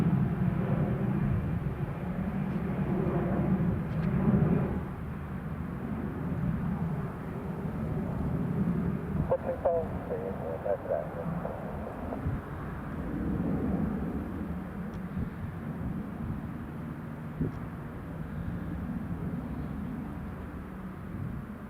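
A Logan Air airplane takes off from Newcastle Airport on a stormy day, its distant engine roar a low steady rumble that swells and fades gently over about twenty seconds without talk.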